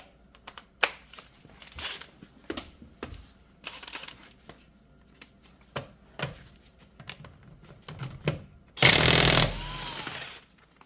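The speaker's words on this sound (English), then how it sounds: "So let's put a socket in action and show you how it works." A VEVOR 21mm 6-point impact socket on a 1/2-inch drive, in use on a fastener: scattered clicks and handling taps, then one loud, dense burst of rapid hammering from an impact wrench near the end, close by.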